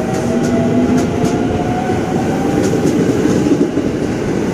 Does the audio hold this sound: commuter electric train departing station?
yes